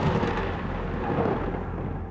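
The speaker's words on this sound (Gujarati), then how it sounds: "એક સવારે વાદળના ગડગડાટથી જંગલના બધા પ્રાણીઓની ઊંઘ ઉડી ગઈ." Deep thunder rumbles over a forest in a cartoon story, a loud sustained low roll that fills the short stretch alone, with no voices.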